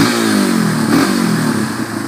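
A 2007 Yamaha XT 225 Serow motorcycle engine revs up loudly and close, its rising mid-pitched drone holding steady before easing off slightly at the end.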